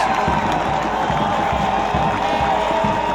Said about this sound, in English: the Flint City crowd erupts here in Atwood